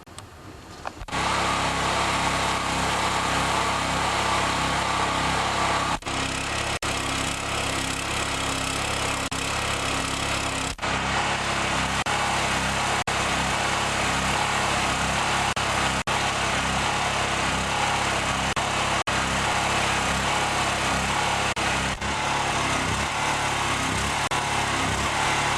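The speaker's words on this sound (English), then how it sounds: "So I'm going to start it up and let it run dry." A Chinese Honda clone generator engine fires up after a brief stutter and runs continuously, a loud, steady, close buzzing drone with a constant pulse throughout.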